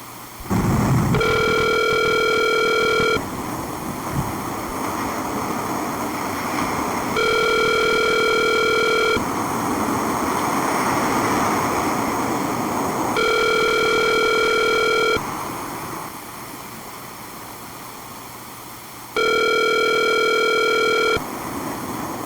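A phone call rings out on the line, repeated pairs of electronic ringback tones sounding at regular intervals over a steady hiss of line noise, loud and close.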